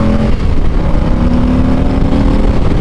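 A 2023 Harley-Davidson Street Glide CVO V-twin rumbles steadily and loudly throughout, a deep continuous throb with no pauses.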